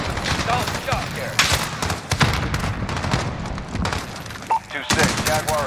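A Jaguar gunship firing in Call of Duty Modern Warfare (2019), a dense, sustained barrage of loud gunfire and booming impacts with brief gaps, layered with other in-game combat noise.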